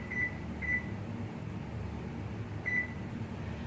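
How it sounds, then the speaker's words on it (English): A kitchen timer being set for five minutes while cooking candied bacon, three short high electronic beeps, two close together then one after a pause, over a low steady room hum. "So I am going to set my timer for 5 minutes."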